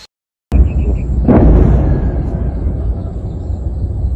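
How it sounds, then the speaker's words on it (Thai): After a brief silence, a loud artillery blast erupts during a clash with small arms fire and rolls into a long, heavy rumble that fades slowly. "เป็นคลิปที่ มีการประทะกันเสียงปืนใหญ่"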